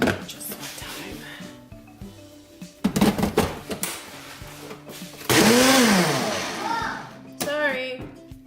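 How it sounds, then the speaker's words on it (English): A blender whirs in several short bursts blending sparkling water into a drink, motor revving up and cutting off, with kitchen clatter and brief talk between the pulses. "I'm gonna blend it just one time."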